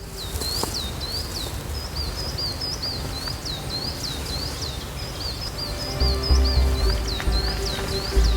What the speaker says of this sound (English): birds waking us up for breakfast